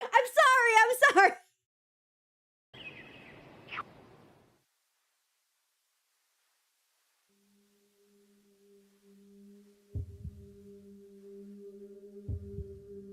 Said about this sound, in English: Bit of a heartbeat.